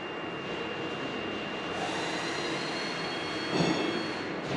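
A worn bearing with crumbling balls in a Polestar 2 electric motor gives a steady, loud whirring drone with a thin whine running through it, swelling briefly near the end.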